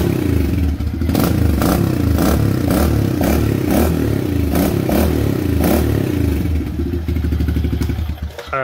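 A Kawasaki KLX110 dirt bike, still slightly cold and fitted with an aftermarket B&H knockoff exhaust can, revs repeatedly from a rough idle in loud nearby bursts, its engine note rising and falling about once a second before settling.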